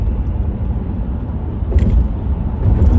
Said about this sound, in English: Right now I'm just cruising on Lakeshore Drive.